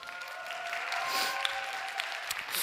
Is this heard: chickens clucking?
no